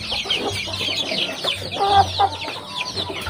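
A hen clucks near small chicks, with low repeated clucks under a busy layer of high, thin peeping that runs throughout.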